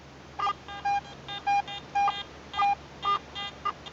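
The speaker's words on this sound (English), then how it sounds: "A lovely high target tone here." Garrett metal detector giving high target tones during a WW2 relic hunt, a series of short clean electronic beeps in an uneven rhythm, about a dozen brief pulses over a soft background hiss, no talk.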